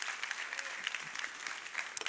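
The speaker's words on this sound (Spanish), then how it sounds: "dale fuertes aplausos al Señor" A church congregation claps loudly together, a dense, continuous burst of applause filling the short moment, close and lively.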